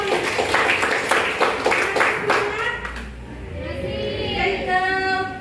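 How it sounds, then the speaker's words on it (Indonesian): Students clap together in a classroom, a burst of hand applause for about three seconds that fades as a voice and an adult voice speak. "Ya, tepuk tangan dong."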